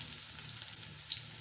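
Chopped onion frying in hot oil for a Malabar spinach fruit (pui fol) stir-fry, a steady close sizzling hiss throughout with no talking.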